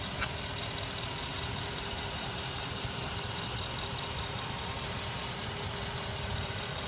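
A 2012 Range Rover Sport Autobiography engine idles at a steady, faint, smooth hum with a constant low drone and no change in pitch throughout.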